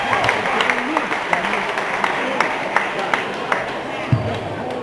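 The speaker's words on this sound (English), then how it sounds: "let's give both of these boxers a big round of applause" Crowd applause at an amateur boxing match, a steady wash of clapping and cheering from fans with occasional sharper claps, sustained throughout at moderate loudness with some babble underneath.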